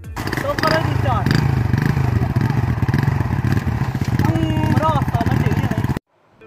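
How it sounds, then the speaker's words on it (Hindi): Motorcycle engine starts and runs steadily, loud and close, with a throbbing low rumble and clatter for about six seconds before cutting off; voices talk over it. "तो करो मोटरसाइकिल स्टार्ट, 1, 2, 3।"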